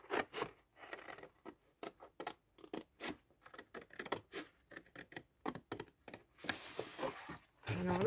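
Scissors cut around a paper scrapbooking pocket in a long run of short, rhythmic snips and rustles, close and clear, ending with a brief scrape of paper.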